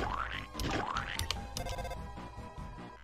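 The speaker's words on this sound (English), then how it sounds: "Tried to call on the cell phone." A cell phone rings in Deltarune Chapter 2, a bright, repeating electronic tone mixed with busy game music and sound effects, moderately loud and continuous for a few seconds.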